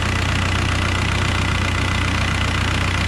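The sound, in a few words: cooling fans running on a 2003 VW Beetle TDI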